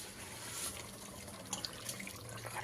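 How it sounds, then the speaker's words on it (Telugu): Water pours into a pot of rice for chicken pulao as a faint, steady liquid rush with a few small splashes and drips near the end, with no voices. "కొలిచి పోసుకున్న దీంట్లోనైతే వాటర్ అయితే పోసుకుంటున్నా"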